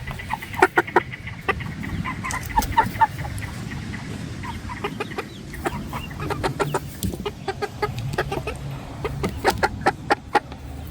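Chickens cluck in a temporary coop, with scattered short calls and squawks over a low background rumble.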